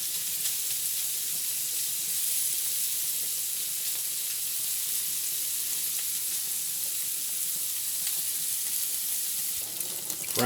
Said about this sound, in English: Got this frying up. You want it good and cooked. You want it good and toasted.